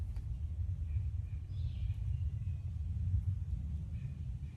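A low, steady rumble rolls in from far away along the Appalachian Trail, likely a distant jet. It is faint and continuous against the quiet mountain air.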